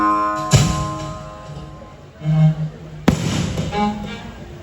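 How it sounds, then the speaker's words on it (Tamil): Firecrackers going off nearby: two sharp, loud bangs about two and a half seconds apart, each with a short rattling tail, over a low steady background hum. "பாருங்க நீங்க வந்தோன்னு பட்டாசு எல்லாம் போடுறாங்க."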